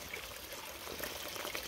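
Water trickling from a small spring-fed stream on a wooded trail as it is filtered, a steady close-up stream with light splashing and no talk.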